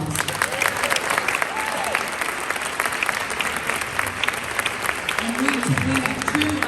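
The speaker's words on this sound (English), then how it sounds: "One more round of applause." An audience at a garden club flower symposium gives a sustained round of dense applause that fills the room, while a voice speaks over it.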